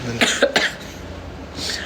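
Someone with a cold coughs two or three times in quick succession, close and fairly loud, followed by a faint breathy throat sound.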